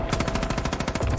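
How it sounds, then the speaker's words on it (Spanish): Gunfire in the video game Far Cry 5: a short, fast run of rapid automatic shots with an even rhythm, loud and close, heard on its own without talk. "Vamos a disparar."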